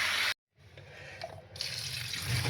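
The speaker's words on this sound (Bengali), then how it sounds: "শাকটা ভালো করে ধুয়ে যেতে হবে, ভালো করে" Tap water runs over leafy note shak (amaranth greens) being washed in a sink, a steady close splashing rush broken by a brief gap of silence, then resuming louder.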